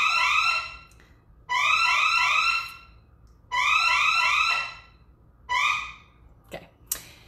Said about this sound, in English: Sorry, they're fixing the security alarm.